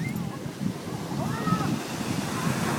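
Atlantic Ocean surf washes in steadily with wind buffeting the microphone, a continuous broad roar under a voice talking nearby.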